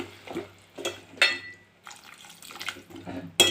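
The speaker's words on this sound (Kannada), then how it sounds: "ಸ್ವಲ್ಪ ನೀರು ಹಾಕೋತಾಯಿ ನಾನು" Water splashes into a cooking pot of Mangalore cucumber sambar in a few short pours, close by, with scraping clinks between them.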